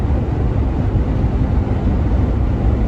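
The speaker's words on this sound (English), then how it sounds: "There's a lot of road noise." Steady low road noise fills the cabin of a 2021 Jeep Gladiator Overland EcoDiesel 4x4 pickup driving on the highway, a constant broadband rumble with no voices over it.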